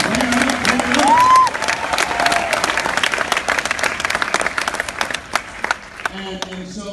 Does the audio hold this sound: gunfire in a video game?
no